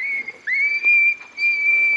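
Foxpro Patriot electronic game call playing coyote pup screams, sustained high wavering squeals in a few long bursts with short breaks, loud and close.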